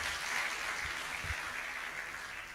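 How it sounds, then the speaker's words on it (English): Steady, dense applause from an audience at a university public lecture, a continuous wash of many hands clapping at moderate distance without pause. "Let us clap for her"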